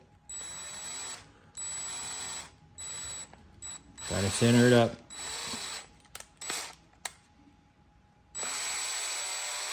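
A power drill driving a 1/4-20 Allen hex bolt, 1.25 inches long, into a 1/6 scale half-track kit, whirring in several short bursts with a louder strained run partway through; a voice speaks briefly in between.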